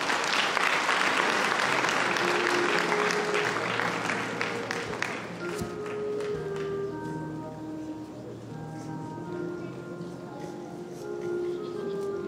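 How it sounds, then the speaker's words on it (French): An audience at a formal anniversary celebration applauds an introduced guest, loud dense clapping at first that thins out over several seconds while a soft sustained musical tone and a few scattered claps carry on. "que je vous demande d'applaudir."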